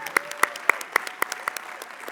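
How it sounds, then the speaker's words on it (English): At an awards gala of a national business conference, sparse clapping with distinct individual claps at a steady rhythm, a few hands rather than a full crowd, fairly close. "Let's give them a round of applause"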